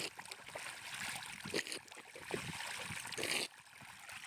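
Water gushes from an irrigation pipe in a farm field, a close, rushing splashing flow with uneven surges and brief dips, carrying on alone without talk.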